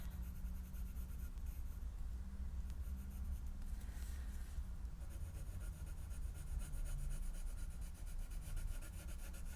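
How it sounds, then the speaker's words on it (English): A colored pencil scratches steadily across paper in close, continuous shading strokes, with no talking. "Love colouring in, and these pencils feel so nice."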